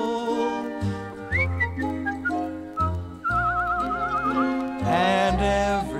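Melodic human whistling carries a wavering tune over an orchestral accompaniment in a 1962 children's LP song, with clear sustained whistled notes and a vibrato passage.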